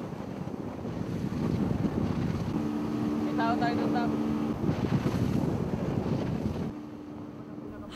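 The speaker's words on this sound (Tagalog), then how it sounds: "Halos lamunin kami ng alon sa pagsubaybay sa mga nagba-backdoor" Wind and rough sea waves surround a boat out at sea. Gusty wind rumble and wave wash are heard together with a steady engine drone, with the noise easing slightly near the end.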